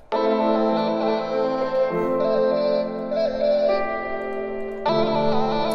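A beat pitched up an octave: bright, high-pitched electronic music with dense harmonics and a chorus-like shimmer, playing continuously and loud with no voices.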